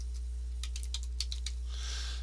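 Typing on a computer keyboard, a short burst of about a dozen crisp, irregular key clicks near the mic over a low steady hum, followed by a softer rustle.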